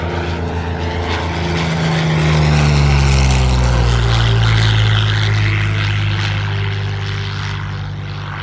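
The loud Allison V12 propeller engine of a P-40 Warhawk roars steadily at an air show, its pitch sliding down as it passes close by, then drones on.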